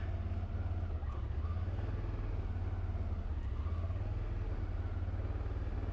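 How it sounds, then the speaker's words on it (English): ATV rolling downhill in low gear under engine braking on a wooded trail, a steady, fairly quiet low engine drone with no throttle surges, continuous throughout. "The thing I love about this bike is this engine braking"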